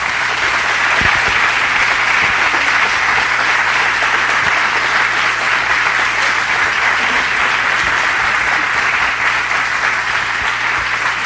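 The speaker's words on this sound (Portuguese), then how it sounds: "Uma salva de palmas para a Neide." An audience gives sustained applause for Neide, a teacher, with dense, steady clapping that stays loud and even throughout, alone without talk.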